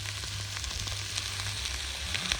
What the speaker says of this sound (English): Sizzling sound that, you know?